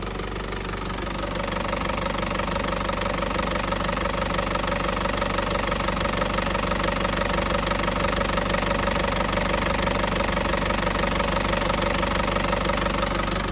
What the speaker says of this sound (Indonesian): suaranya mesin masih pulen banget